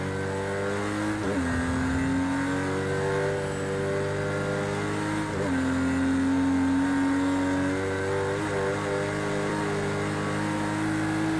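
Race car engine in Project CARS 2, a steady loud drone with gear shifts around two and five seconds, pitch dropping then climbing again as the car brakes and re-accelerates through a corner, no talk.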